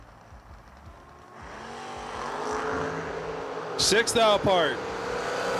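Drag racing at a footbrake event: a 1968 Camaro in the left lane against a first-generation Camaro in the right, engines roaring and revving into a loud launch with harsh bursts near the end, heard under an announcer's commentary.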